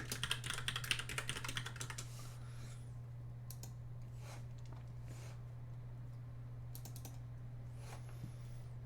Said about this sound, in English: Probably help if I typed in the whole name.